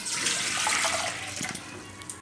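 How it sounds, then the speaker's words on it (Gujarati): A steady stream of water is poured into a cooking pot in a home kitchen to boil peas and corn. It gives a close, hissing splash for about two seconds that fades slightly toward the end, and a sharp knock follows. "તો આમાં આપણે પાણી મૂકી દેવું ગરમ"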